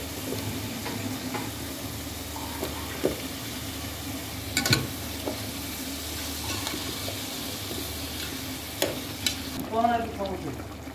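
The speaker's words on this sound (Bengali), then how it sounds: "আমি মাছগুলো একটু উল্টাই দিলাম, এপিট ওপিট করে আমি 2 পিঠই একটু ভালো করে ভেজে নিব।" Flipped fish pieces frying in a pan, a soft continuous sizzle broken by a few sharp scrapes and clatters of a spatula, fairly quiet and without talk.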